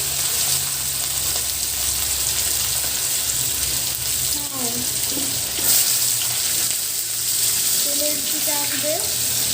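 Fish laid into hot oil and frying, with a continuous bright sizzle and spatter throughout and a voice talking softly underneath.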